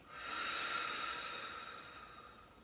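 A long, deep exhale during a guided breathing exercise, a soft airy hiss that swells quickly and then slowly fades away, close and alone.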